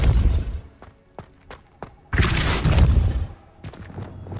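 Casting the Depulso spell in Hogwarts Legacy, a broad, forceful whoosh and crash that swells and holds for about a second amid game effects, preceded by a few short thuds.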